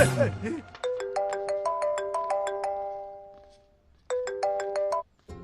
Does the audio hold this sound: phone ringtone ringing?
yes